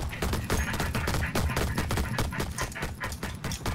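A sniper crab opens fire in Crab Champions: a loud, dense run of gunshots cracks out in quick succession for several seconds, with no talk over it.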